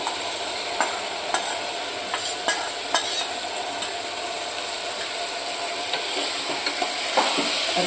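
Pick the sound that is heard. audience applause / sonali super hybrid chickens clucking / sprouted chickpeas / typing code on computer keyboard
sprouted chickpeas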